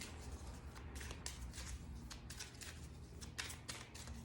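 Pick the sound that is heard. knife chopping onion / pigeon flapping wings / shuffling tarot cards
shuffling tarot cards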